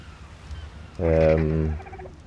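A tamed bird in Ark Survival Evolved lets out a single loud, gobbling honk-like call lasting under a second, standing out clearly over a quiet background.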